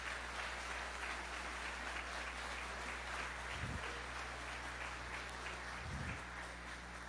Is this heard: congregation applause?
yes